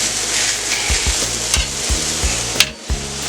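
Potatoes frying in a single layer in a hot pan for a breakfast burrito, a loud, close, continuous sizzle broken by several spatula scrapes and knocks, with no talking.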